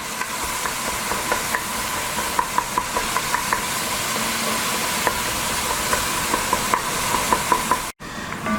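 Raw lean ground turkey sizzles steadily in a hot pan while being broken up, with a spatula scraping and tapping in small irregular clicks over the constant frying hiss, close and moderately loud.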